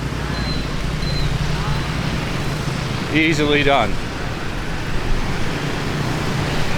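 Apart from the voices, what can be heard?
street traffic at rush hour in Vietnam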